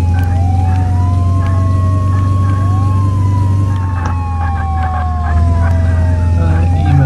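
A wailing ambulance siren in the video game Flashing Lights sweeps up and down over a loud, steady engine rumble, close and persistent, with faint voices underneath.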